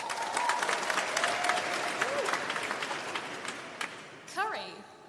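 Graduation ceremony audience claps for sushi in a show-of-favourite-foods game, steady applause with crowd murmur and a few whoops, fading toward the end as a voice speaks over it.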